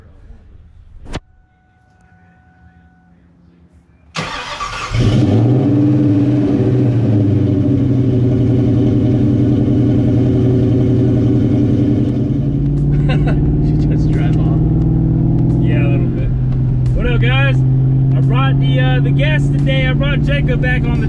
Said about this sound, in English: Can't be a Mustang video without a cold start, right?